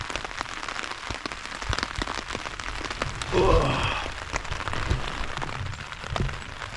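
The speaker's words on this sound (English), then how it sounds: "It's raining." Rain pattering on a camping tarp nearby in late fall, scattered drops tapping steadily, with a brief louder rustle partway through.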